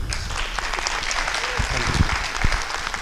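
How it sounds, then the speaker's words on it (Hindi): An audience at a Dogri drama festival play applauds the director, a dense burst of clapping from a crowd lasting a few seconds, with a voice speaking briefly over it. "एक बार जोरदार तालियां"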